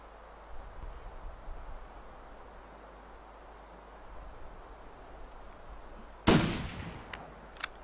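Hunting rifle shots in the video game The Long Dark, fired at an animal: one sharp, loud report follows a long quiet stretch of ambient hiss, then a fainter second crack comes near the end.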